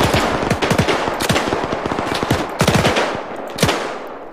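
Machine gun fire in Arma 3 during a WWII battle for Berlin, loud and close with rapid rattling bursts and short pauses, plus sharp single cracks toward the end.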